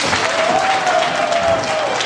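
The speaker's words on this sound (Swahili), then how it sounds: "Naomba tupige makofi." Audience applause at a formal ceremony: a steady, dense wash of many hands clapping at once, holding at an even loudness for about two seconds, with a faint sustained tone running through it.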